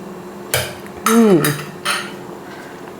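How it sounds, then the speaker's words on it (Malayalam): Pasta and sago payasam is mixed in a pot. A spoon strikes and scrapes the metal in a few sharp clanks, with a brief voice in the middle. "പാസ്ത ചൗവരി എല്ലാം കൂടെ മിക്സ് ചെയ്തെടുക്കുകയാണ്"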